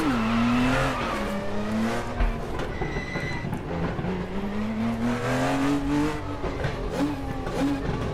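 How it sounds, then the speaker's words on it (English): F1 race cars in the RaceRoom racing game roar past in a steady, loud engine drone, their pitch rising and falling as they accelerate, with brief tire squeal mixed in. "There's F1 cars going. Let's see. Oh, they sound amazing."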